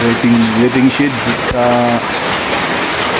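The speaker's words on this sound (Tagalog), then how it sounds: "biglang lumakas yung ulan guys" Heavy rain pours steadily near a waiting shed in a purok, a broad hiss that swells stronger partway through, with someone talking over it throughout.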